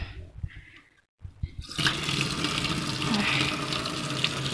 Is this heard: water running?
yes